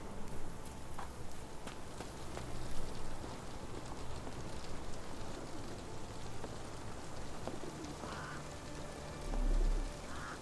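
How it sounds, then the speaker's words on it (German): Rain drips and patters through a leaky roof at a beach location in the video game Sherlock Holmes The Awakened, a steady wet hiss with scattered drops and faint bird calls. "Ich habe das Gefühl, es regnet hier durch das Dach."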